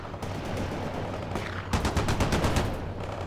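Battle gunfire and rocket fire from the World in Conflict video game form a loud, dense barrage. Heavy rumbling gives way to rapid machine-gun-like bursts near the end, with no voices over it.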